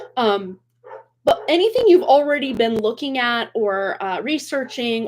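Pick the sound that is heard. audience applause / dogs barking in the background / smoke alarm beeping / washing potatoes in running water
dogs barking in the background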